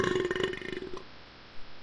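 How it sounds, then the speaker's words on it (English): A cartoonish burp sound effect from the Baby Bottle Pop video game, a single loud, gurgling belch lasting about a second before cutting to near silence. "Burp like a champion."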